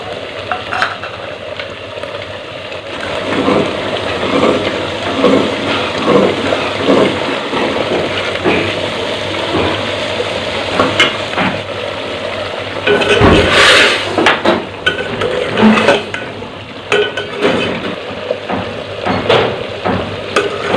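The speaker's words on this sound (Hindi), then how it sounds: "अब हम इसमें 3 चम्मच ऑयल के डालेंगे और इसको भून लेंगे" Mutton liver fries in about three spoons of oil in a pan, with a steady close sizzle and repeated stirring scrapes throughout.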